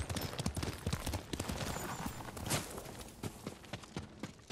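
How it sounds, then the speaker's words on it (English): Horse galloping in Ghost of Tsushima, a fast rhythmic run of close, loud hoofbeats on the ground. "Good horse, Kage."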